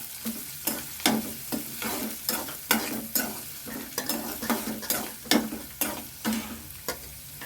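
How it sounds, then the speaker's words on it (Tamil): Onions and curry leaves sauté in a pan with a soft, continuous sizzle, broken by regular close spatula stirs and scrapes about twice a second. "இப்போ நான் வெங்காயம் போட்டேன். வெங்காயம் நல்லா வதங்கட்டும்."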